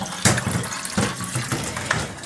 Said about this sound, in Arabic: حبه ميه معانا في الفلفتايه كده، حبة مية مش كتير